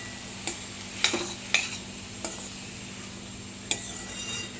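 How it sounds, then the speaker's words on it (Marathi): Onion and capsicum sauté in a pan, a steady soft sizzle broken by a handful of sharp scraping stir strokes, close and moderately quiet, with no talking. "सिमला मिरची यामध्ये मी परतून घेत आहे"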